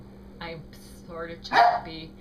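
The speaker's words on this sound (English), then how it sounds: "that was a dog" A dog barks once or twice nearby in a home, short sharp yelps breaking through a person's halting, choppy speech.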